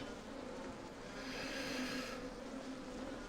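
Bees swarming near a hive in Skyrim give off a faint, steady buzzing drone that swells slightly midway, alone and fairly quiet.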